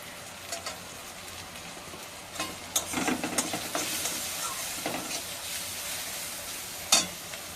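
Spice paste of turmeric, salt and chili powder sizzles and fries in a pan, a steady crackling hiss with scattered sharp clinks and scrapes of stirring, loud and close.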